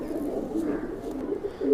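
Kalsare pigeons of Andhra bloodline, a male and female, cooing steadily in low, throaty rolling tones, close and continuous with a slightly louder swell at the end.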